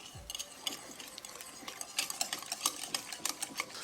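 Spoon stirring a dry mixture of salt, turmeric and Kashmiri chili powder in a bowl for lamb curry, quick repeated clinks and scrapes, fairly faint and close, with no voices.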